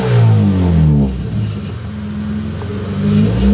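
A 1995 Mitsubishi Mirage engine rumbles loud and close, its pitch climbing and falling through a couple of revs before settling back toward idle, with no voices.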